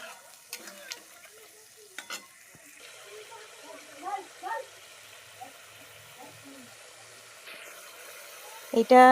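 Paneer curry in a pan gets a small splash of water, with soft sizzling and stirring scrapes that come in short bursts under a quiet background, and a louder clatter at the very end.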